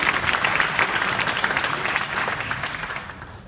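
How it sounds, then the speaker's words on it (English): Audience applause at a 2019 startup business summit in The Hague, a dense, steady wash of clapping from a large crowd that holds for a few seconds before thinning slightly at the end. "Please give him a round of applause."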